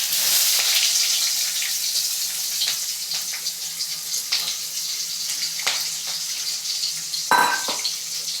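Chopped onion frying in oil with urad dal and chana dal for rava upma: a continuous close sizzle with a strong hiss, punctuated by soft stirring scrapes and a brief louder clatter near the end.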